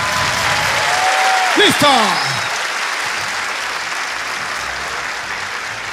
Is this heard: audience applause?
yes